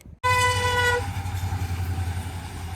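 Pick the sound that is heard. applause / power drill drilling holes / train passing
train passing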